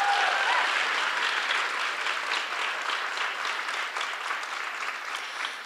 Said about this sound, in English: But please still give a round of applause.